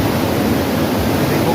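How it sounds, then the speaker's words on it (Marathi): Strong river water rushes steadily and loudly in a broad, unbroken roar near a scenic viewpoint, filling the whole moment without pause. "या इकडे पाण्याचा फ्लो बघा काय"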